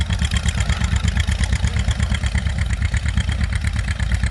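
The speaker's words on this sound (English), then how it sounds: "I hear the John Deere Aa popping," An antique John Deere A tractor engine chugs with a steady, rapid popping exhaust beat at a plowing event, loud and fairly close, running continuously without talk.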